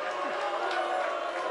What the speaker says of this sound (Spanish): Acá el orador permite el segundo de abucheo.